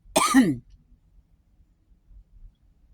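A single short throat-clearing cough up close, followed by near silence.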